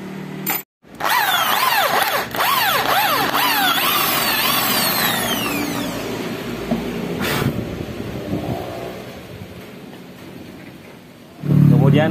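A power drill with a 5 mm bit whines into a broken brake caliper bleeder bolt, starting abruptly and running steadily with a swooping pitch that settles lower, close up, with a voice speaking over it.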